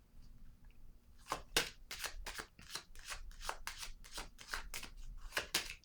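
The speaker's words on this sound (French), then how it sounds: "Là, je vais déposer une carte ici." Tarot cards shuffled and set down on a table during a reading: a rapid run of about a dozen crisp papery flicks and slaps, close and fairly quiet, with no talking.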